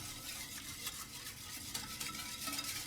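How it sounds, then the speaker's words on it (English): Jasmine rice pudding is stirred in a pot with vanilla bean; soft, quiet scraping and swishing of a spoon through the rice, with a faint background sizzle and no talking. "we're just going to stir that up"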